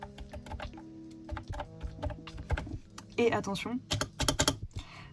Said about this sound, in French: ça c'est le bruit de la barre espace